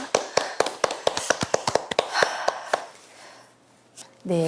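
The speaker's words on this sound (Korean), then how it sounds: "제가 대신 너무 감사하다는 그 마음을 전하는 박수를 좀 보내드리고 싶습니다" A small gathering at a Jeungsando Daedeok dojang claps in sharp, distinct individual claps at a quick, slightly uneven rhythm, dying away after a few seconds before a voice briefly begins.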